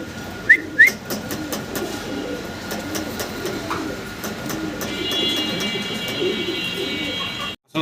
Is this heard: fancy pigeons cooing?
yes